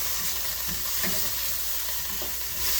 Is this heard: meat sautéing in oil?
yes